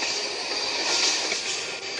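A train rolls along in a video game, producing a continuous rumbling rail noise with a bright metallic squeal that swells near the middle and then eases slightly, steady and unbroken, with no voices.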